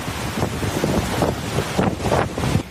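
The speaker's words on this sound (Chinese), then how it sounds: "台东路也风雨交加，路树被吹得东倒西歪" Typhoon Kong-rey sweeps through Taitung with strong wind and rain, a loud roaring rush that buffets the microphone and surges in gusts, with no talking.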